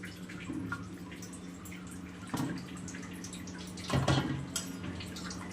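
Water sloshes and drips softly as grated potato is rinsed and squeezed in a bowl, with a few splashy bursts against a quiet background.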